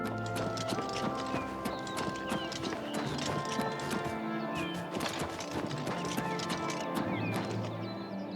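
Horse hooves clip-clop steadily in the video game Oblivion Remastered, with a whinny, all set against continuous game music and ambience.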